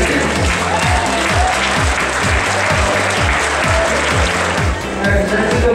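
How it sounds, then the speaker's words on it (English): Sustained, loud applause from an audience honoring the pyramid puzzle winner at a Rubik's Cube world championship finals, with a rhythmic musical beat thumping underneath throughout. "Let's have one more round of applause for our pyramid champion."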